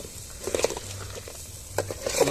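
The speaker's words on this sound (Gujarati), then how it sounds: "દાળ નાખવાની છે થોડીક" Dal poured into a sizzling vaghar tempering, short stirring and splattering bursts close by with a low background hiss, no speech.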